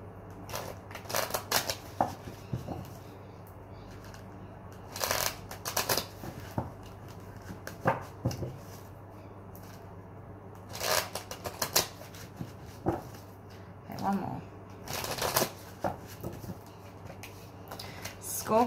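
Tarot cards are shuffled in several short, crisp bursts of riffling and slapping, close by, separated by quiet pauses.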